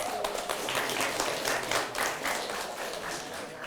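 Applause at a junior high school quick-answer quiz competition in Palembang, a short burst of dense clapping from an audience that swells and fades unevenly over a few seconds.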